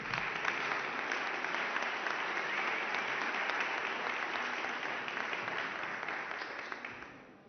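Sustained applause from an audience at the close of a formal agreement-signing session during a press conference, a dense steady patter of many hands lasting several seconds before fading out at the end.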